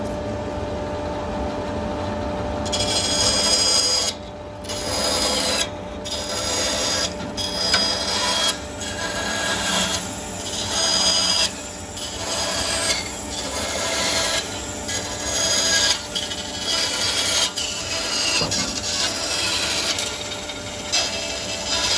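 Wood pieces for a collapsible pen display stand being cut, likely by hand or bandsaw, with a steady rasping, rubbing cut running continuously for over twenty seconds in short repeated strokes, close and fairly loud, no talking.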